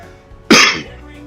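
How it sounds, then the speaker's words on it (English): One sharp, loud cough bursts out close by, a harsh, brief expulsion that fades quickly into quiet background noise. "Sorry for the cough."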